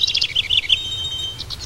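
Several bright, quick bird chirps in a rapid burst outdoors, a short pause, then a few more chirps, close and clear over a faint background hum.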